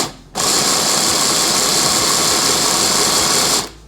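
An electric whisk whirs steadily and loudly for about three seconds, starting and stopping abruptly, with no talking over it.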